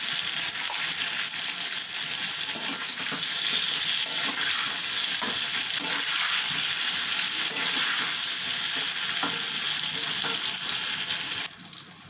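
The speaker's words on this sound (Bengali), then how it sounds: "পটলগুলো প্রায় ভাজা হয়ে এসেছে, আমি একে একে এগুলোকে তুলে নিচ্ছি।" Pieces of pointed gourd (potol) fry in oil with salt and turmeric, giving a loud, continuous hissing sizzle with light stirring noises throughout, with no voices.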